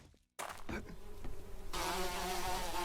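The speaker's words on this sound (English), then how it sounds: "I didn't know they can also have bees and stuff over here." Bees buzz in the video game 7 Days to Die, a steady insect drone that starts abruptly after a brief silence and grows denser and louder toward the end.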